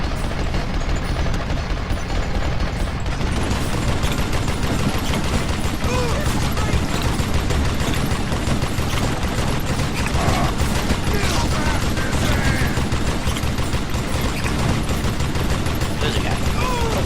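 Gunfire from the Call of Juarez: Gunslinger video game, a dense, continuous barrage of shots and mechanical clatter over a busy game soundscape, loud throughout.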